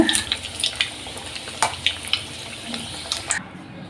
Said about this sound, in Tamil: இப்படி ஒன்று ஒன்றா எல்லாமே இப்போ எண்ணெயில் போட்டு எடுத்துக்கலாங்க.